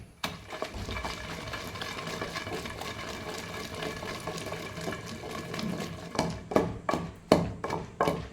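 Garlic, tomato and salt being pounded for chutney in a stone mortar, with a steady grinding bed and a few sharp close thuds near the end.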